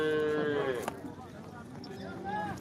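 Cows and calves at the Modnimb cattle market give a drawn-out moo near the start, followed by fainter animal calls amid the crowd's background noise.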